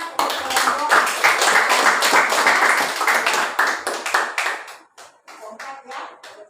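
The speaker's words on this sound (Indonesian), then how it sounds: "Kita kasih aplaus dulu nak untuk kelompok" A classroom of students claps for a student group, a dense burst of hand clapping that holds steady for several seconds, then thins into scattered claps as it fades out.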